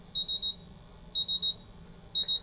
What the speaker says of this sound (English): all the 4 sensors that are currently being bump tested are at least in a low alarm